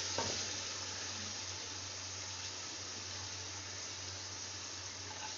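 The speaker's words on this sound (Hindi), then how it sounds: "अब इसमें हम ये चावल डाल देते हैं।" Rice tipped into a pot of cooked potatoes and fried masala gives a brief rattling pour at the start, then a low, steady sizzle and simmer continues quietly throughout.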